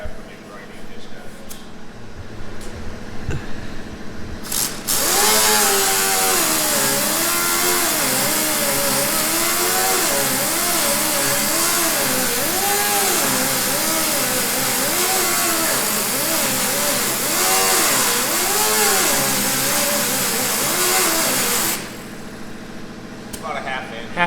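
Body filler being ground down on a 1971 Chevy C10, a loud continuous power-tool whine with a wavering, rising and falling pitch that runs steadily for about seventeen seconds after a quieter stretch with voices, then cuts off.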